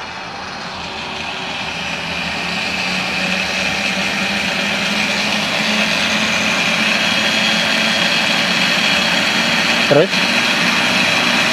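An SRM (switched reluctance) electric motor is revved up to full throttle, its steady, loud whine building gradually and holding high, with a brief spoken word near the end.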